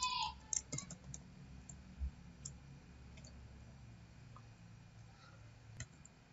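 Password typed on a computer keyboard during a software install on Ubuntu, heard as a few faint, sparse key clicks over a quiet background hum.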